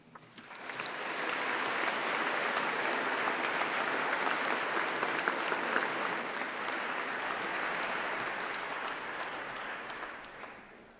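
An audience at a UCLan graduation ceremony applauds: sustained, dense clapping swells up quickly, holds evenly loud for several seconds, then tapers away at the end.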